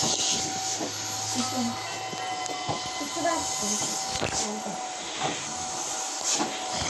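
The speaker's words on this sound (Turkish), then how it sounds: "şu anda süpürge sesi duyuluyor" A steady whirring vacuum cleaner runs throughout with a constant hiss and hum, fairly close, with faint knocks and shifting noises over it.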